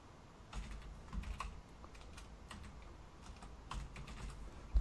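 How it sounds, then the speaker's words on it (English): Soft clicking keystrokes on a computer keyboard come in a few quick, faint bursts against a quiet room background, with no talking. "If I could type it properly."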